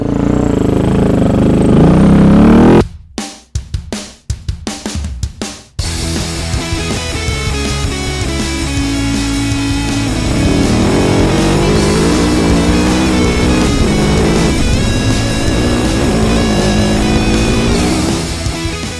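Rally motorcycles roar away from a Baja Rally stage start. A few sharp engine bursts and gaps lead into a loud, continuous mix of revving engines that rise and fall as the bikes accelerate, with no talk.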